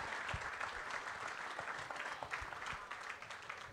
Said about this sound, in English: Round of applause for Isabel